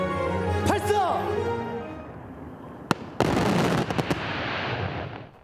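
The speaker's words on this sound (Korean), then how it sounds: "밤하늘로 불꽃이 빠르게 올라가더니 펑소리와 함께 발화하면서 서울 하늘을 노랗게 물들입니다." Fireworks burst over the sky at the 20th Seoul fireworks festival. A voice comes first, then a sharp single bang, then a dense run of crackling and popping explosions.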